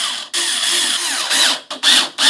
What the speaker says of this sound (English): I'm going to tighten them up with my power drill.